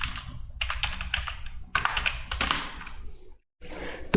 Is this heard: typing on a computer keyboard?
yes